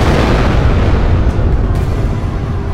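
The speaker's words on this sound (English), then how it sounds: "in the distance, they see another explosion as the half-reconstructed Capitol building falls as well" A huge, sustained explosion roars loud and close, a dense low rumble filling the whole stretch as a building falls amid a sci-fi laser-fighter attack.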